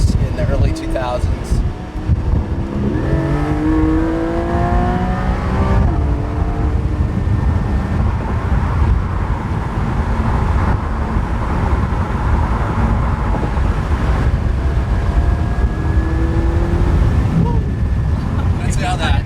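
A 2021 Porsche 718 Spyder accelerates hard, its engine note rising through the gears as a steady, loud drone with wind noise, while people talk over it throughout.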